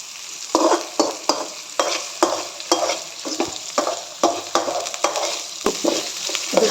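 Onions and green chillies frying over medium flame in a pan for vegetable noodles, with a steady sizzle broken by repeated scraping stirs of a spatula at an irregular rhythm, close and fairly loud, no voices.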